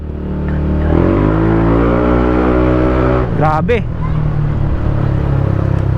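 A Yamaha Aerox V1 scooter, freshly tuned with a Speedtuner V2 pulley set, revs loudly and steadily close by, the engine note climbing, with a brief exclamation from a rider partway through.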